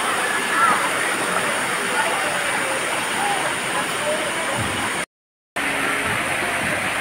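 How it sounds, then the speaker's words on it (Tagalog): Waterfall water pouring down onto a person's body at a clear natural spring falls, a steady loud broadband rush of falling water throughout, briefly cut out near the end. "Parang minamasahe yung katawan mo nang bumabagsak na tubig."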